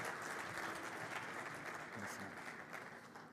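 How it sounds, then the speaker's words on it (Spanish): Audience at a tech conference applauds, a brief burst of dense, steady clapping heard at low level. "El aplauso ahora, esta vez es para él."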